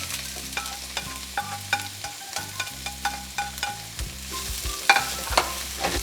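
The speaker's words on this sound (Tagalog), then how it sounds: "At igigisa ko lang to hanggang sa lumambot na yung sibuyas." Onions sautéing in a pan for arroz caldo, with a steady soft sizzle and rhythmic stirring scrapes, while low music plays throughout.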